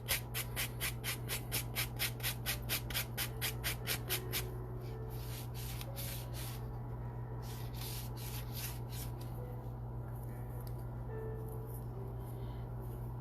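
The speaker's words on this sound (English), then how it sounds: "I can actually just sand the whole cut edge at the same time" The cut edge of a coin ring made from an 1820 half dollar is sanded with rapid, rhythmic rubbing strokes for about four seconds, close and clear over a steady low hum, then fainter scraping.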